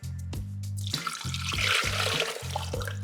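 Water splashes from a tap or pour for cooking suji halwa, a bright hissing stream broken by a few short interruptions while a low motor hum pulses underneath.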